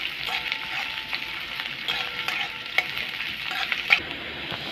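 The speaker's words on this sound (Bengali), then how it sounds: "এবারে কুচনো পেঁয়াজটাকে আমি একটু বাদামি করে ভেজে নেব।" Chopped onion browning in a pan for a soybean and masoor dal chorchori, with loud continuous sizzling and occasional stirring scrapes close up and no talking.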